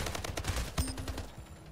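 Rapid gunfire from the video game Splitgate, a quick run of loud sharp shots with one heavier blast near the middle, ringing briefly and then fading off.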